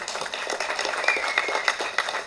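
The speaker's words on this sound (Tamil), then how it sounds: "அதுக்கே தனியாக நீங்கள் அவருக்கு ஒரு கைத்தட்டல் கொடுக்கலாம்" An audience at a film trailer launch breaks into brief, moderately loud applause, a close crackle of many hands clapping without any talk.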